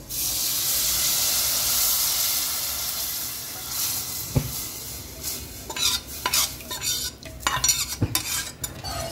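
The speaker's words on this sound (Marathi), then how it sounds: "बरें ताका मिक्स करून घ्या" A spoon stirs turmeric and chili spice mix in a hot pan, with a soft sizzle at first and then clinks and scrapes against the metal in irregular bursts, heard up close with no talking.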